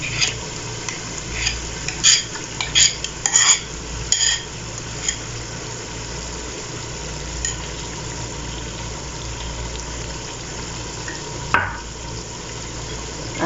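Mutton korma roasts with yogurt in a pot, a spoon clattering and scraping in a few bursts early on over a low steady sizzle, close by, with one more scrape near the end and no talking.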